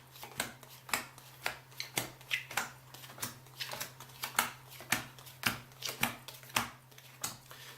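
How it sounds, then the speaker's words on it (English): Playing cards dealt one at a time into seven rows for a mathematical card trick, each card landing with a crisp slap in a steady, evenly spaced rhythm, close up and quiet with no talking. "you're going to deal them out the exact same way. So you're going to deal out 7 cards"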